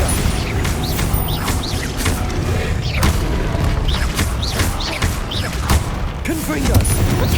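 Bombarda spell explosions in Hogwarts Legacy, repeated booming blasts and crackling bursts in quick succession over a busy battle soundscape with birdlike chirps and mechanical clatter, loud and continuous.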